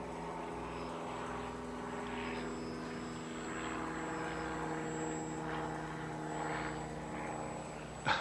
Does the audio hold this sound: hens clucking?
no